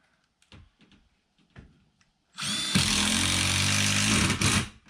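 Gray screws driven by a power driver into the front lip of a trailer-mounted skid house, a sustained loud whirring burst with tonal harmonics after a few quieter taps and clicks.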